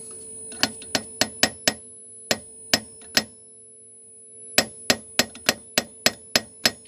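A screwdriver taps the glass valve tube of a Bush TV62 television in sharp, bright clinks: a quick run of five, three slower spaced taps, then a pause and a rapid series of about eight, over a steady faint hum.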